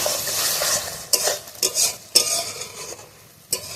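Ridge gourd and potato with poppy seed paste sautéed in a pan: a soft sizzle with several scraping stirs of a spatula and a few sharp utensil knocks against the pan, close up.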